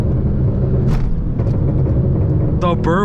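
An Infiniti G37 with full bolt-on tuning rumbles steadily, with a few sharp crackling exhaust pops near the end.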